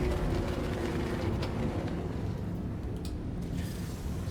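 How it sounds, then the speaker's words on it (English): A train rumbles past in a video game, a dense, loud, steady roar with some mechanical rattling throughout and no voices. "There's a train."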